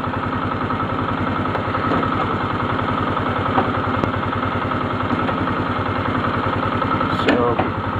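A Polaris Sportsman ATV engine idles steadily nearby after sitting unused for a while, a continuous low throbbing rumble with even pulses throughout and a brief click near the end.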